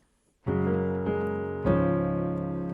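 A piano plays two sustained chords after a brief silence, ringing out in a short bluesy phrase.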